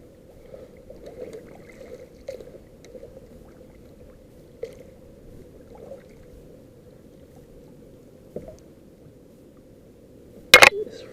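A Sun Dolphin Phoenix 10.4 kayak is paddled across open water, with soft rhythmic swishes and dips over a low steady rumble, closing on a loud sharp knock or splash.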